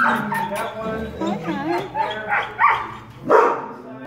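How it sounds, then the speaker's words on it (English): A dog whines and yips close by in high, wavering cries, mixed with a person's voice speaking. "Beautiful, beautiful dog."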